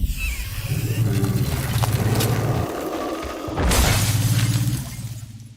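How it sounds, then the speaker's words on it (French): A frozen allosaurus body bursts apart with a loud shattering crash, preceded by mechanical rumbling and followed by a heavy boom and scattering debris. "Le corps de l'allosaure gelé explose"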